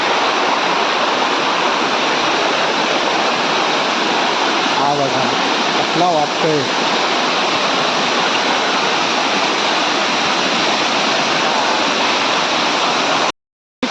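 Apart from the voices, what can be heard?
forest waterfall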